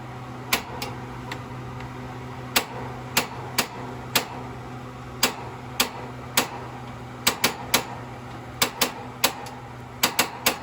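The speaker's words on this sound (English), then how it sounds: "Turn your knob over to light, hit it with sparker" Sharp, evenly bright clicks from a propane stove igniter sparker in a 2013 Rockwood 2902SS travel trailer, repeating irregularly about twenty times over a steady low hum, with no talk.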